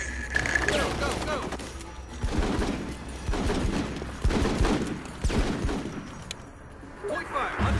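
Squad gunfire in the video game Full Spectrum Warrior, bursts of rifle and machine-gun fire crackling repeatedly over several seconds amid shouted soldier voices and battle noise.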